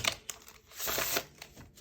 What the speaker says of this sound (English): Give me a second to shuffle all these.